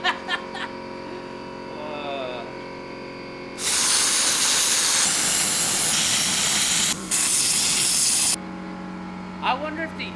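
A plasma cutter hisses loudly and steadily for about five seconds while slicing scrap metal for a bell stand, with a brief break near the end. It starts abruptly, stops abruptly, and has a quieter stretch with some movement on either side.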